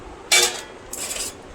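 A spoon scoops homemade tomato chutney, sweetened with batasa, from a dish, giving two brief close clinks and scrapes a short pause apart.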